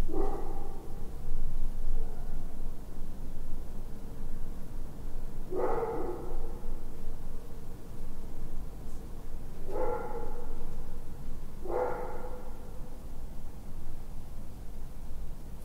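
A dog barks in a few short bursts, spaced several seconds apart, over steady background hiss inside a house.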